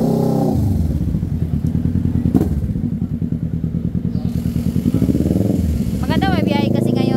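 Kawasaki Ninja 650 motorcycle engine idling and revving while being checked for backfire, a loud steady rumble with thuds and clatter up close, with people talking over it.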